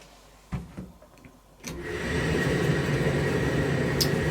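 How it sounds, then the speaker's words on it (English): A Zanussi TD162 compact 7lb tumble dryer kicks on after a couple of faint clicks, then settles into a steady, loud motor whir and drum rumble that keeps running without pause. "Now if the door's closed, the dryer will automatically start."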